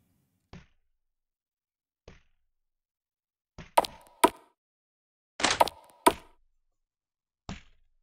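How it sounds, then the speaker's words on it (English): A zombie in a zombie-apocalypse video game bangs on a shut door: scattered heavy thuds, single knocks at first, then louder clustered double and triple blows, with no talking. "The zombie won't stop banging on the door."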